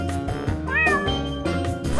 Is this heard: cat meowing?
yes